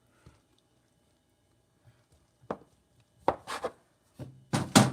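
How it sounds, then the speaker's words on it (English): A bench scraper cuts panzerotti pizza dough in half on a work surface, making a few close thuds and scrapes that grow louder toward the end after a nearly silent start. "Cut it in half. A bench scraper."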